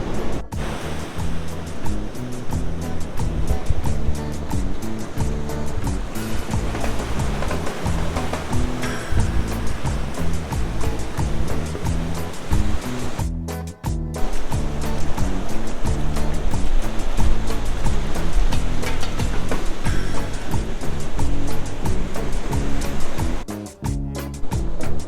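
Waves roll and crash continuously onto the beach at Pacitan at sunset, a loud, dense wash of surf with steady churning and brief dips between breakers, no voices.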